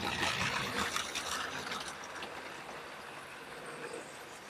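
A model train runs along a railway layout, a light rattling and whirring that is louder at first and then settles into a quieter steady run, with no voices.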